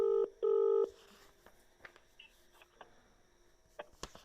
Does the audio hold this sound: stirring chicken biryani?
no